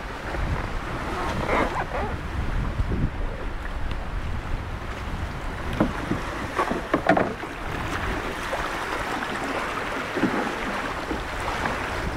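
Steady wind rushing over the microphone outdoors on open water on the way to Pagsanjan Falls, with low rumbling gusts and occasional louder buffets throughout.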